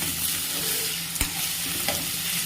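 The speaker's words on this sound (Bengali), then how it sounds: "এবার ঢাকনাটা খুলে নিলাম, নিয়ে সবজিটা ভালো করে নেড়ে নেব।" Boiled vegetables for egg chowmein are stirred in a pan, giving a steady hiss of frying with a couple of sharp spatula scrapes and clinks, close and continuous, with no voices.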